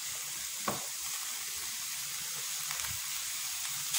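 Onions fry in a pan, a steady soft sizzle and hiss heard alone, with a few faint stirring clinks.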